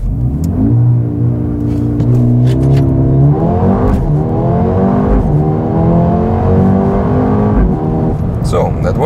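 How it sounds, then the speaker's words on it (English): A Mercedes-AMG A35 with all-wheel drive launches in Sport Plus mode, its engine roaring loud and close with pitch climbing sharply through several gearshifts in a strong, continuous acceleration. "This might be a good straight to test the launch control. We're in the Sport Plus mode. Let's hammer the brakes and the throttle."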